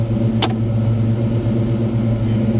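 A Ford Foxbody Mustang engine idles steadily and loudly nearby, a constant low rumble with one short sharp click early on.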